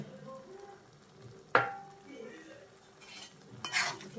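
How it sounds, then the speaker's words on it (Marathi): Leftover rice mixed with tamarind, sugar and spices is stirred in a pan, with a sharp scrape or clink, soft shuffling of the spatula, and a louder scraping burst near the end. "चांगलं मिक्स करून त्याच्यावर झाकण ठेवून थोडा वेळ शिजायला ठेवायचं"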